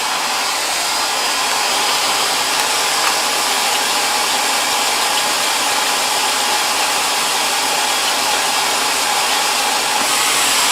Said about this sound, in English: So my main function with the hair dryer is to heat these edges.